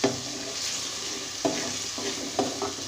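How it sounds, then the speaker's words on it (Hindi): Peas frying in a pan for matar pulao, a steady close sizzle with a few brief scraping stirs of a spoon against the pan, no talking. "मटर भून रही हूँ"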